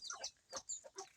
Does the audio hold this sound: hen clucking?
yes